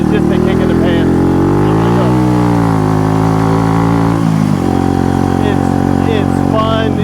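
A vintage Honda CB125 cafe racer motorcycle rides along, its small engine droning steadily at close range, with pitch sweeping up and down as it revs and shifts, while a voice talks over it.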